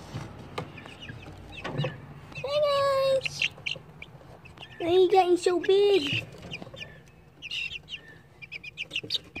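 Young chickens in a backyard pen cluck and chirp in short bursts, with a few louder drawn-out calls mid-way, while a person talks to them close by.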